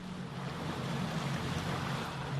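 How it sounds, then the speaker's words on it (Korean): Cold, humid sea wind blows steadily off the Greenland coast near Ilulissat, a constant loud roar with surf-like rushing and microphone buffeting, no voices. "바닷바람이 매섭고 날카롭습니다."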